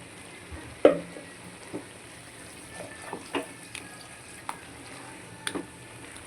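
Masala paste frying in oil for a poori curry, a soft steady sizzle with a few sharp clinks and taps of a spoon against the pan scattered throughout.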